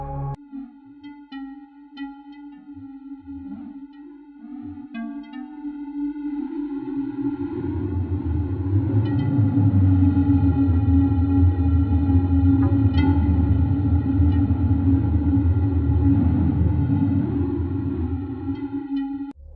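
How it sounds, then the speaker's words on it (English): NASA James Webb sonification of the Southern Ring Nebula: a sustained, droning space tone with steady overtones that swells from quiet to a loud, dense hum midway and holds there, with soft echoing pings layered on top. "Listen to the Southern Ring Nebula."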